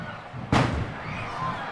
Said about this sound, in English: Fireworks have been going off like crazy here in Canby.